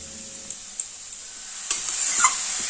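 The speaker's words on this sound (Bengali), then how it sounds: "গাজরটাকে কন্টিনিউ নেড়ে চেড়ে ভেজে নেব" Grated carrots for gajar halwa fry in ghee in a wok over a high flame, giving a soft, steady sizzle broken by occasional scraping clicks of a stirring spoon, with no talking.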